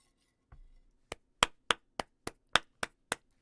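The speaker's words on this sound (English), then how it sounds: "Let's clap it in." A small group clapping in unison to start a comedy talk show, eight sharp, evenly spaced claps close by after a brief soft thump, with silence between.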